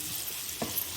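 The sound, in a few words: chopped onion frying in hot homemade ghee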